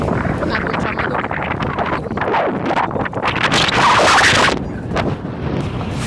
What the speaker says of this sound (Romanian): Vântul bate foarte tare afară.